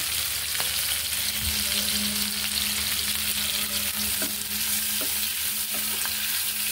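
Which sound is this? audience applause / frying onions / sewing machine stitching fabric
frying onions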